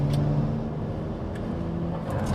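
BMW E92 335i with a hybrid turbo engine accelerating, a steady low engine drone heard from inside the car, moderately loud and continuous with no talk.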